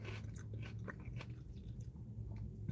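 A bite of Wingstop takeout chewed inside a car, with close, continuous soft crunching and mouth sounds for a few seconds and no talking.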